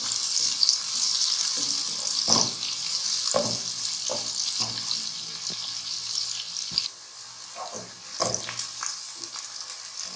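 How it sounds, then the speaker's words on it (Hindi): Onions fry in a pot, browning lightly in oil with a steady close sizzle, broken by several sharp stirring scrapes. "अब हमने ये प्याज इसमें फ्राई करनी है। प्याज को हल्का सा ब्राउन करेंगे हम।"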